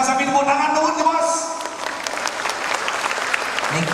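An audience at a comedy duet show bursts into applause, a dense wash of clapping that starts under a singing or speaking voice and carries on loudly to the end.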